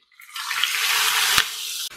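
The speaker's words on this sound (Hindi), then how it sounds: "और अब इसमें मैं ऐड कर रही हूँ पानी" Water poured into a mutton karahi on a slow flame: a steady, close, splashy rush lasting under two seconds, with a single sharp knock near the end and no talking.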